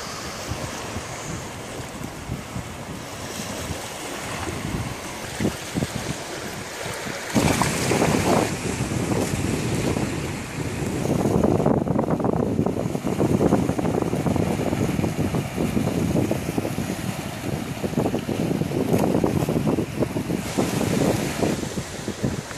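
Caspian Sea waves wash onto a wild beach, with continuous surf roar and strong wind buffeting the microphone, swelling louder in the second half.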